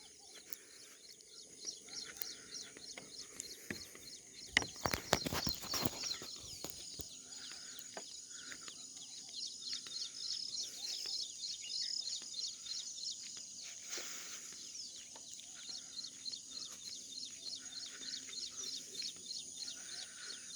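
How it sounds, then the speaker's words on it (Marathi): Small birds chirp and twitter steadily through a village morning amid sugarcane fields in the rainy season, with a busy high chorus, a brief louder burst of noise midway, and faint distant background sounds. "पक्षी किलबिल करतात"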